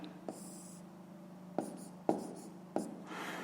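Numbers for a fifth-grade fraction exercise are written on paper by hand, giving soft scratchy pen strokes broken by a few sharp taps as the pen meets the page, close and quiet.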